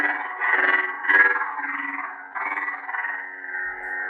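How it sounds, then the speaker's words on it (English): Proffie-board lightsaber on a Jedi Killer hilt with dual crystal chambers igniting, giving a loud, sustained buzzing hum with wavering surges and swells that runs continuously, close and alone. "The saber is super loud."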